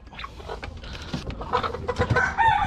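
A rooster crows loudly and close by on a farm in the Philippines, its call stretching across a couple of seconds among busy farmyard noise.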